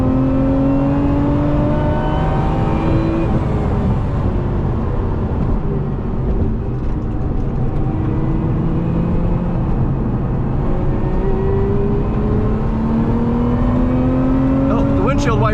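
Cabin sound of a 2025 Lotus Emira V6 on a road drive, the engine droning loud and steady with rising and falling pitch sweeps as it pulls through the gears, continuous and close throughout.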